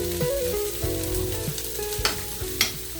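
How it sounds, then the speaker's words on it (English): Moringa leaves and egg frying in a pan, stirred with a utensil, giving a steady sizzle with occasional scraping clicks, close and alone without talk, over a background of music. "just stir a little bit, not to make it too much cook"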